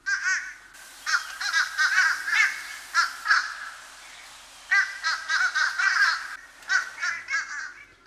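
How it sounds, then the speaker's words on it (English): Fish crow calls in Hampton Roads, short nasal caws delivered in two clustered bursts with a quiet gap between them, fairly close and heard alone. "Here's the fish crow."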